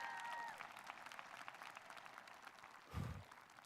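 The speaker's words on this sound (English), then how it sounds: "Another round of applause," Applause rises briefly from an audience at a high school graduation ceremony, dense patter of clapping with a low thump near the end, moderately loud against room noise.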